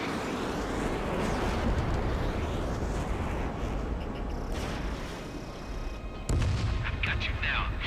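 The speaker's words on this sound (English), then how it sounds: "Firing. Firing missiles" Missiles launching in a flight combat video game, a sustained roaring rumble of engine and firing blasts with a louder burst near the end, dense and continuous.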